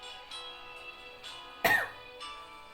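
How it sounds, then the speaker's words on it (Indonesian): A single sharp cough bursts out around the middle, loud and close, set against a faint sustained tonal background with no speech. "Izinkan kami batuk yang diciptakan oleh Allah, yang tidak bisa kita hentikan."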